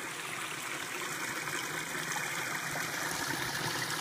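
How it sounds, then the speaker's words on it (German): Water runs along a small metal rail into a channel, making a soft, steady trickling stream with no voices, even and faint throughout. "Hier fließt das Wasser in den Kanal."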